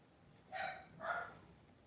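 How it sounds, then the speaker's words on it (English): Dogs at home bark twice in quick succession, faint and somewhat distant, two short separate yaps over a quiet background. "Those are my dogs."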